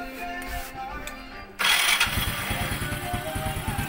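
A Honda XRM 110 motorcycle engine cranks and catches after a quiet stretch, then settles into a steady, loud idle with rapid regular pulses while the carburetor is tuned.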